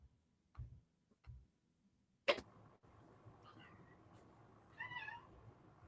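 A cat meows faintly a few times in a quiet indoor room, following a couple of soft thumps and a sharp click, over a low background hum.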